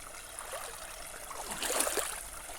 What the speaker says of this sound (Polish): A z tej strony tak wygląda strumyk.